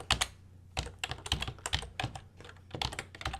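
Rapid keystrokes on a computer keyboard come in irregular clusters of clicks and taps, close and clear, with short pauses between bursts.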